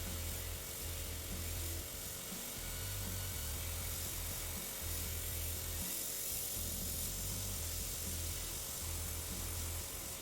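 An airbrush sprays paint onto a miniature model at full pressure from about three-quarters of an inch away: a continuous close hiss over a low, pulsing mechanical hum.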